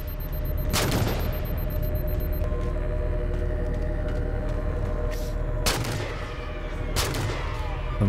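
Gunfire in the Halo 4 shooter game: three sharp, loud bursts ring out at irregular intervals over a steady, droning battle background.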